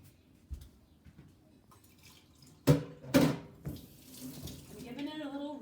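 Tap water runs briefly into a sink to rinse a vinegar-soaked egg, with two short, loud gushes standing out over quieter handling noises.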